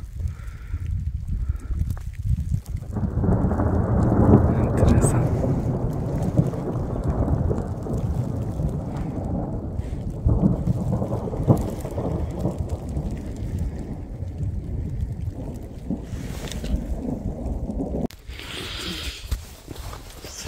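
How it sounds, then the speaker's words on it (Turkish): A thunderstorm rumbles over a snowy winter campsite at 5 a.m., with low rolling thunder and a steady wash of rain on the surface, loud and continuous, and a few faint voices briefly audible. "Hala şimşek çakıyor."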